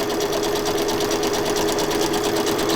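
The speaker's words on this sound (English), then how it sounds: "Do a little crooked sewing" A sewing machine runs continuously while stitching a pocket journal, a loud, steady, rapid whirring hum held at close range without pause.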